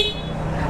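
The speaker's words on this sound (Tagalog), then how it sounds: "I-check natin yung busina guys kung gaano kalakas." A Yamaha MT-03 motorcycle's horn sounds in one short, steady, moderately loud honk lasting under a second.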